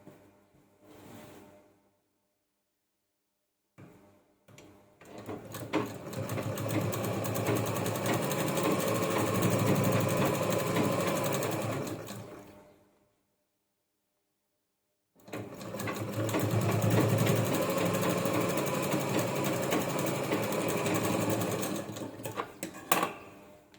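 A sewing machine stitches a bag made from a saree blouse piece, running in two long steady bursts of rapid mechanical whirring separated by a short pause, with a brief start-stop at the beginning.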